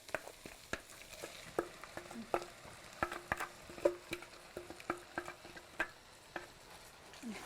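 Squid and onion stir-fried in a pan, a soft sizzle under repeated sharp spatula taps and scrapes against the pan in an uneven rhythm, fairly quiet and close, no talk.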